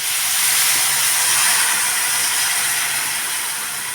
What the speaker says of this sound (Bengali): আমি এখন দিয়ে দেবো জল